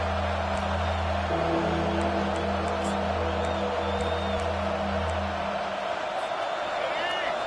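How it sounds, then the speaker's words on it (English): A home crowd roars steadily throughout an NCAA football video game, with whoops and cheers over a low, droning hum and a voice talking in the mix. "And how nice is it to have the home crowd going absolutely bananas?"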